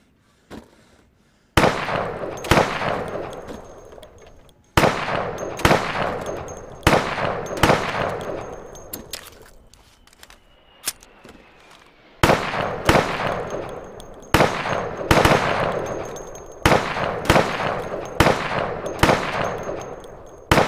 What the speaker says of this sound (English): so you can shoot accurately over 20 feet with your sidearm